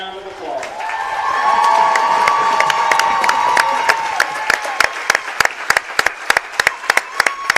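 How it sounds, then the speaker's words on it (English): A crowd at a Texas high school football game cheers and shouts for an award presentation, a sustained roar of voices that gives way to sharp, spaced handclaps close by. "Please give Tristan Keller a big round of applause."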